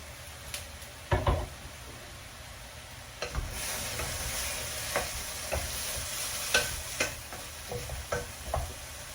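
Japanese-style chicken curry ingredients being stirred and sautéed in a pan, with a steady faint sizzle under repeated scraping and knocking strokes of a utensil against the pan.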